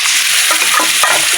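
Hot oil frying in a pan with turmeric, a loud, dense, continuous sizzle heard close up throughout the short burst.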